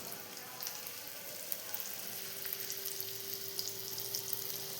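Rava-coated surmai fish slices frying in a pan, a constant close sizzle with soft crackling pops, no talking.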